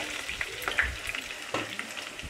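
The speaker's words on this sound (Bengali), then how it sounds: "আলুগুলো এখানে মোটামুটি ভেজেছি।" Potatoes fry in a pan, giving a soft, steady sizzle with a few light stirring scrapes and clicks. No one speaks.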